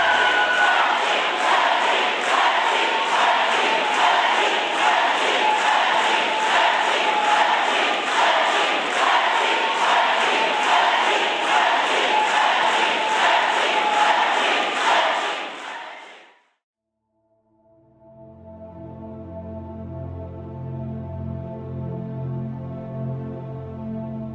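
A large crowd in a packed legislative chamber cheers and shouts in loud, rhythmic, chant-like waves, close and sustained for about sixteen seconds before cutting off abruptly.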